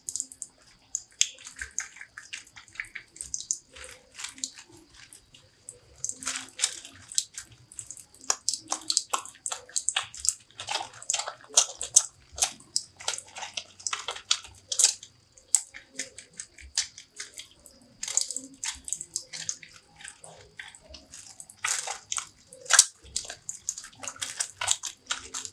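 Hands being washed with liquid soap and running water, long irregular bursts of wet rubbing, splashing and dripping, close and moderately loud, with brief pauses between scrubbing spells and no talking.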